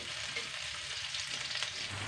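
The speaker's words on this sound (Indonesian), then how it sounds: "Dan setelah panas, masukkan bumbu-bumbunya untuk ditumis ya." Spices frying in hot cooking oil for a chicken and mixed vegetable stir-fry, a steady close hiss and sizzle that runs unbroken through the clip.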